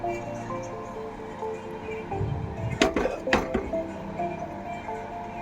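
Goat meat is moved from a pressure cooker into a wok, with a few metallic clinks and scrapes of the utensil in a cluster near the middle, fairly quiet over a low hum.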